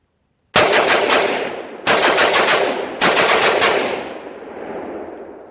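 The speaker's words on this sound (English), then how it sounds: "You can rattle them off pretty quickly with that lighter trigger pull." Three quick bursts of rapid semi-automatic fire from an AR rifle with a light Tac Con trigger, each volley loud and close with shots rattling off in fast succession, echo tailing away after the last.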